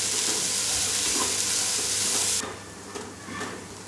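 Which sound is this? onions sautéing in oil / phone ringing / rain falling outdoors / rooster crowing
onions sautéing in oil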